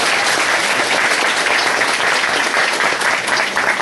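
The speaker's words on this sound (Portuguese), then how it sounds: "Dhanvantari Swami, vamos aplaudir." Dense, steady applause fills a lecture hall as an audience claps together for a talk on Indian religions, loud and close throughout without a break.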